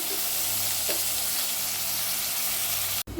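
Home-grown broad beans fry with tomato in a pan over low heat. A steady, close sizzle hisses evenly throughout, with a faint stir partway through before it cuts off abruptly at the end.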